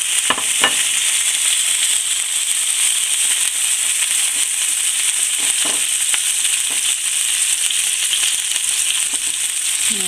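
Rosemary sizzling steadily in hot oil left over from frying fish, a bright continuous crackle with scattered sharper pops, close and alone without talk.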